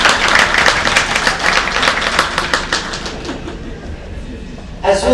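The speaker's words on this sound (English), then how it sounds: "Can you give me a round of applause?" A live audience applauds at a creative arts event, dense broadband clapping that fills most of the clip and gradually thins out, with a brief burst of other sound at the very end.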